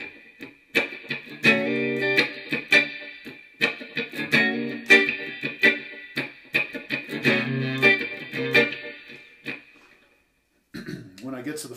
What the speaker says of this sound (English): I start a half step below that and slide up to it.